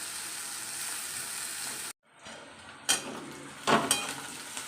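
Chopped onion frying in a pan, a steady close sizzle that cuts out abruptly, then returns with a few sharp bursts of stirring and scraping; no voices.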